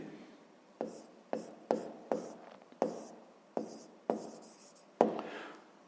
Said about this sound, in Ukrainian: Ну, Записуємо тоді.